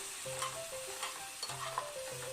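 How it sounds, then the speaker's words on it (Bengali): A small amount of onion, ginger, garlic and green chili paste sizzles in a pan of frying spices for hilsa dum pulao: a close, steady hiss with brief spattering bursts and a few stirring strokes, no voices. "এরপরে পেস্টটা দিয়ে দিচ্ছি পেঁয়াজ আদা রসুন কাঁচা লঙ্কার যে পেস্টটা করে রেখেছিলাম"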